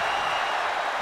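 A loud, dense roar from a packed WWE wrestling arena crowd cheering and applauding during a six-man tag match, a continuous wash of noise with no breaks.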